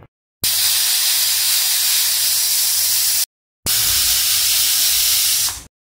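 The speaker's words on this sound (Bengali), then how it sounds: "আমি গ্যাস জ্বালিয়ে কুকারটা দিয়ে দিয়েছি বসিয়ে। এবার আমি 2টো সিটি লাগিয়ে নেব।" A pressure cooker on a gas stove cooking dal hisses loud and steady as it vents steam in two long continuous bursts, with a brief pause between them and no talk.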